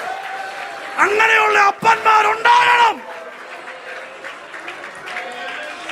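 A church congregation bursts into cheering and applause during a Christian sermon. The preacher's amplified voice carries over it, and the clapping fades to a low crowd murmur.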